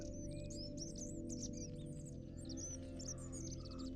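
Birds chirp and tweet in the Nature Treks VR game world, a steady scatter of bright calls over a constant low ambient drone, with no voices.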